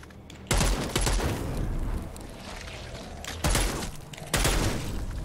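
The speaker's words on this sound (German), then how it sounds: "die Waffe, die ballert aber ganz anders" Loud bursts of rapid gunfire from a weapon in the zombie video game Dead Island 2, several sustained volleys of fast repeated shots with brief gaps between them.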